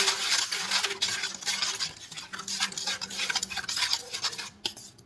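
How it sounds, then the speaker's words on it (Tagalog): Garlic, pepper, salt and seasoning granules being stirred into a marinade for daing na bangus (milkfish), with a spoon scraping and clinking against the bowl in quick, close, continuous strokes and no talking. "Pagkatapos halu-haluin lang natin."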